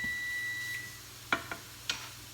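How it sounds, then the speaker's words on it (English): A kitchen timer sounds a steady electronic beep for about a second, followed by a few soft clinks and taps in a quiet room. "Oh, there's our buzzer."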